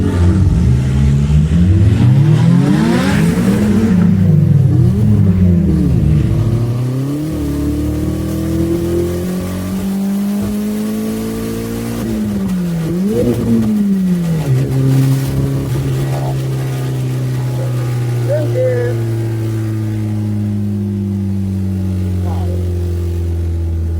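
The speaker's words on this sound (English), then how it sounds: "the car was misfiring like mad" An all-wheel-drive Vauxhall Nova race car, misfiring badly and missing second and fourth gears, launches on track and revs hard through rising and falling engine sweeps, loud and close throughout.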